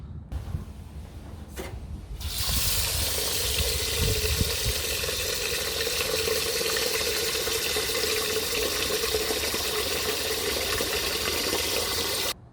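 Water pours steadily from a tap into a bowl of sushi rice being washed, a loud continuous splashing rush that begins after a few quiet seconds.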